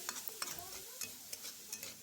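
Grated coconut with cardamom frying and being stirred in a pan, a soft steady sizzle broken by repeated scraping strokes of a spoon at an irregular rhythm, close and clear with no talking.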